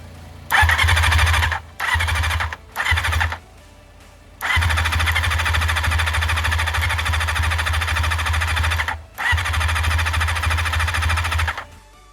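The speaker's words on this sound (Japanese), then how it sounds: "前回オーバーホールしたキャブをつけて始動を試みてみました。" Kawasaki Eliminator motorcycle engine cranking on jump-start power with a freshly overhauled carburetor, three short starter bursts followed by two long sustained cranking runs with a squealing whine and a brief pause between them, loud and close, no voices.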